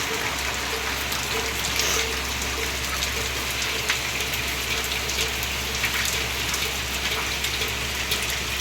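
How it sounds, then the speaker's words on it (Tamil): Steady light rain falls throughout, a continuous soft hiss with a faint low hum underneath and no voices. "அதுக்கப்புறம் மழை வருது பாருங்க கொஞ்சம் தான் மழை பெஞ்சிச்சு"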